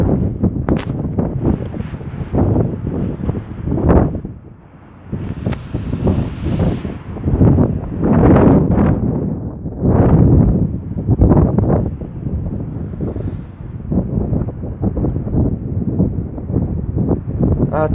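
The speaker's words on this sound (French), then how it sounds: "Ah, il y a une rafale qui arrive, j'ai eu l'impression." Strong storm gusts in the Rhône, reaching up to 120 km/h, roar and buffet the microphone, surging and easing continuously, with a brief lull near the five-second mark.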